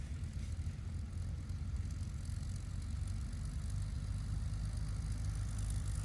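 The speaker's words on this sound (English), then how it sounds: "canards definitely use up some runway on their takeoff roll, particularly when you have 2 people in the front seats" A Cozy canard aircraft's engine drones steadily through a takeoff roll on a runway at a canard fly-in, a constant low rumble heard from a moderate distance with wind noise on top.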